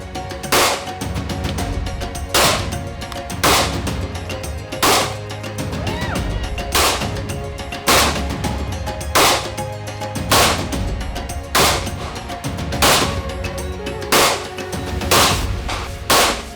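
Repeated gunshots at a firearms training range, sharp loud reports at irregular intervals, roughly one to two seconds apart, over a steady low background hum.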